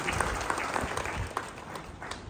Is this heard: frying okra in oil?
no